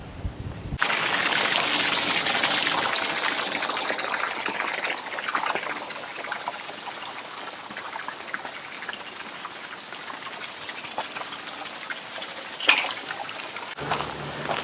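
Flowing water rushes steadily beside a walking path in Cedarburg, Wisconsin, a continuous broadband wash heard close and fairly loud, with a brief knock near the end.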